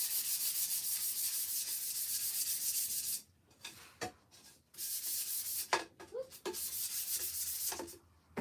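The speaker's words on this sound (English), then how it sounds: "if I can grab my sander, just smooth this out slightly" An electric sander runs on a wooden craft piece in loud bursts of steady rough whirring, stopping briefly between passes with light handling knocks in the gaps.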